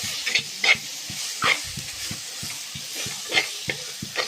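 Ground spice paste sautéing in hot oil while being stirred, a steady sizzle with repeated scraping stir strokes and a few louder clacks of the spoon against the pan.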